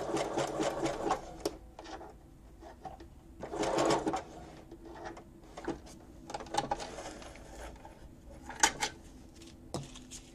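A sewing machine zigzag-stitches over a glued-on Christmas embellishment, running in short bursts of varying length with quiet pauses between, close and moderately loud.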